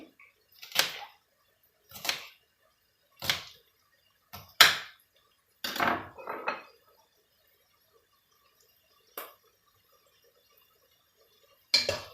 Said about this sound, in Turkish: Yeşil biberlerimi de doğruyorum. Ve bunları da küp şeklinde biraz iri